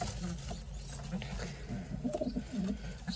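Pigeons cooing inside a loft, several soft low coos repeating close by over a quiet background.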